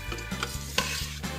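Vegetables sizzle in a pan as flour is stirred in, a close hiss broken by rhythmic scraping strokes and one sharper knock of a spoon against the pan.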